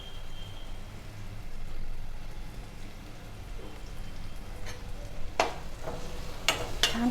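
Eggplant bharta with onion and tomato fries softly in a pan under a continuous low sizzle, with a few sharp scraping stirs near the end.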